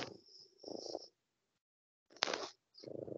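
A house cat purring up close in soft rhythmic bursts, two stretches separated by a silent pause, faint overall.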